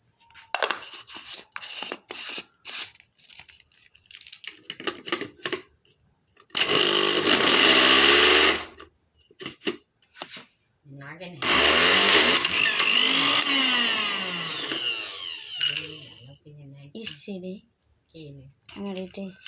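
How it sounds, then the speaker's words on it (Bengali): A weak kitchen blender grinding dried turmeric into powder in two short, loud whirring bursts, the motor pitch sliding as it runs, with someone talking in the pauses between. "ব্লেন্ড করতেছি"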